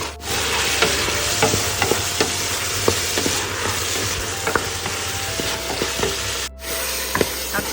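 Tomatoes, onions, garlic and ginger-garlic paste are stirred as they fry in hot oil, with steady sizzling and repeated scraping strokes of the spoon throughout, close and fairly loud.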